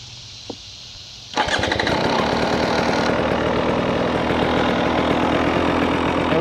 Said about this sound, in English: let's go ahead and get it started up and let it run